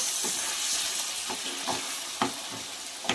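Chicken with fenugreek leaves and spices frying in a pan, a steady sizzle with several soft scrapes and knocks of a spoon stirring every half second or so.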